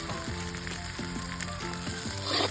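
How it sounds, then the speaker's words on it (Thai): Curry paste of dried chili, shallot, garlic and fingerroot stir-frying in a pan, a steady loud sizzle with repeated scraping stirs of a utensil at a regular rhythm, close up and alone. "ผัดให้พริกแกงหอมกันนะจ๊ะ"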